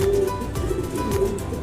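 Racing pigeons coo softly and repeatedly close by during a hot derby race, low throaty calls over a steady background hum.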